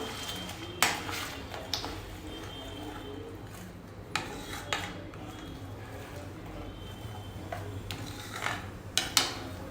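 A ready-made spice paste is scraped and stirred in a pressure cooker pot, with repeated metallic scrapes and knocks of a spoon against the pot, close and fairly loud.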